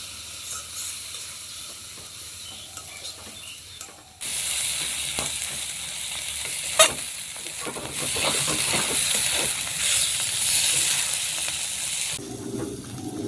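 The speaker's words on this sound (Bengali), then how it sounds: "এখন মশলাটাকে ভালোভাবে কষিয়ে নেব।" Spice paste frying and being stirred in hot oil for a Bengali prawn curry, a steady close sizzle that swells loudly after a few seconds and carries scraping stirring strokes, with no voices.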